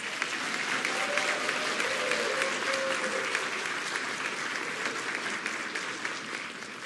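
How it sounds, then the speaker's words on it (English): An audience at a Darton College of Nursing and Health Professions pinning ceremony applauds steadily for about seven seconds, with dense, even clapping filling the hall and no break in the sound. "Please give them one more round of applause."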